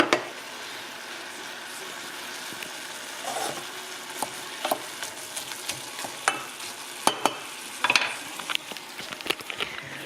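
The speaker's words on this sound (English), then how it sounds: "I might as well just chuck in the" Beef mince for nachos frying in a pan without oil, a steady close sizzle broken by sharp scraping clicks and taps as it is stirred, with no talking.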